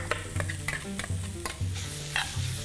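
Grated mango being stirred into rice in a pan over low flame, with repeated scraping strokes of a spoon against the pan over a light sizzle, close and steady with no voices.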